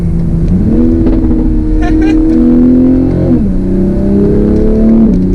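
A 2020 Toyota Supra with 32 miles on it revs up at under half throttle, pitch rising through gears with a brief dip between shifts, loud and close.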